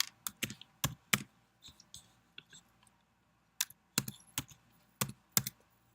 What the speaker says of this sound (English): We type in what we see in our table here.